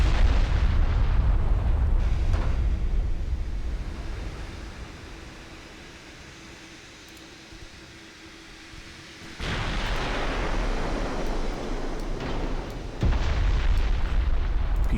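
Heavy booming blasts from torpedoes striking a ship in a naval battle game: deep rumbling explosions roll and fade, then fresh loud impacts burst in twice more, the later ones sharper and closer.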